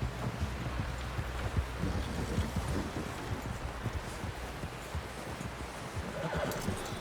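A horse in the Red Dead Redemption 2 video game whinnies while hooves clip-clop steadily, set against a soft windy outdoor background.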